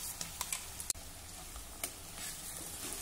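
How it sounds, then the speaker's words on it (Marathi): Kharda chutney with onion sautéing in a pan gives a soft, continuous sizzle and frying hiss, broken by a few light ticks and a sharp clack of a utensil. "हा खरडा देखील 2 मिनिटांसाठी परतून घेऊ"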